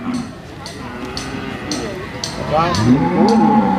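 Cattle at a livestock market lowing repeatedly, drawn-out moos near and far overlapping with a lively crowd and people talking throughout, a loud close bellow rising toward the end.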